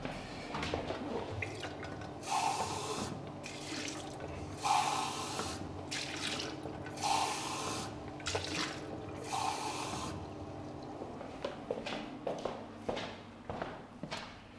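Tap water runs into a container in bursts, with splashing and filling sounds that stop and start several times, close by at a workbench, and no one talks.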